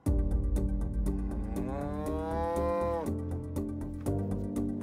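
A cow moos once, a long, loud, drawn-out low call heard close by amid steady farm background noise and faint rhythmic clicking.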